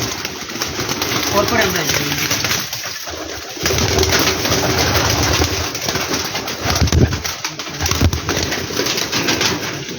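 Teddy pigeons coo in low, throaty rolls close by, under and between people talking loudly nearby, with a faint mechanical hum in the background.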